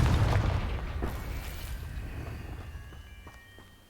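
A Confringo spell detonates in Hogwarts Legacy: a heavy, booming blast opens loudly, then rumbles and fades away over a few seconds.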